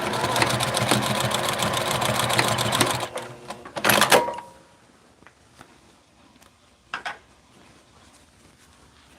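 A sewing machine stitching elastic onto pants runs with a loud, steady, close whir for about three seconds, then stops, leaving a brief clatter and faint handling noises.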